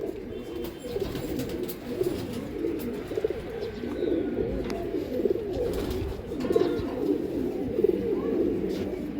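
Pigeons coo together in a steady, continuous murmur of low throaty calls that fill the whole stretch, near and fairly loud, with no voices.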